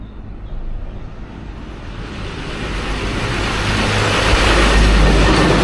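A train rolls past in rural countryside near Vangal, Karur, its broadband rumble swelling steadily from moderate to loud and close over several seconds, with no voices over it.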